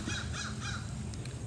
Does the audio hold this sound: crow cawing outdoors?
yes